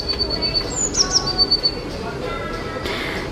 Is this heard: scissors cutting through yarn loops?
no